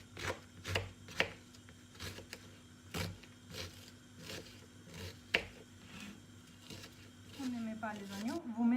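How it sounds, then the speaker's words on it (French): Kitchen knife chopping onions into small squares on a cutting board, irregular soft thuds and taps heard close, with someone talking over it toward the end. "Je découpe mes oignons en petits carrés."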